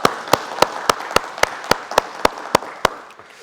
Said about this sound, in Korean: 우리 영광의 박수 하나님께 크게 올리겠습니다.